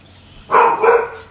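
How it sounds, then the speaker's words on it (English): A dog lets out a single loud, drawn-out bark close by, with a short second pulse at the end. "Every time somebody comes in the house, she's got to bark."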